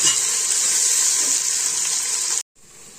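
Onions sautéing in a pan for egg biryani give a steady, close, broadband sizzle that continues unbroken before cutting off abruptly into near silence, then fades back in faintly.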